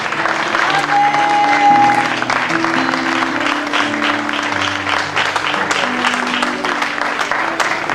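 Church congregation clapping and cheering during a French-language Sunday service, a dense, sustained applause that fills the room steadily throughout, with a brief whistle-like tone early on and faint voices mixed into the crowd.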